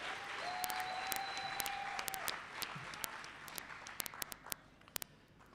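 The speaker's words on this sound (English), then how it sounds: "Let us give the MEC a big round of applause." At a community colleges infrastructure launch, an audience's applause thins out into scattered sharp claps, with a faint tone in the background.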